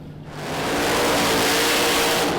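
A Pro Mod drag racing car at the 2016 British Drag Racing Championship tears down the strip in a loud, continuous roar that swells within the first half second and holds at full, broadband intensity with no talk.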